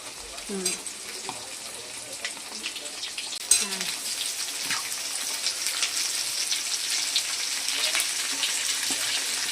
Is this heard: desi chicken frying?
yes